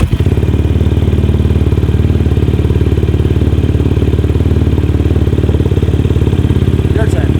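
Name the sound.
dirt bike engine running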